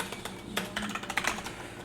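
Quick, uneven typing on a computer keyboard during a Java and Flutter coding session, a close run of light key clicks in short bursts with no talk.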